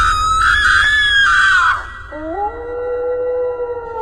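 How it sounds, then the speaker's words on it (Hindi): A wolf howls in a forest, sustained wailing cries, one long falling howl followed by rising, overlapping howls, loud and close. "तभी जंगल में भेड़िए के चिल्लाने की आवाज आने लगती है।"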